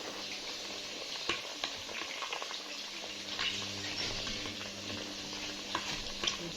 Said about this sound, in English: So I started frying my beef firstly.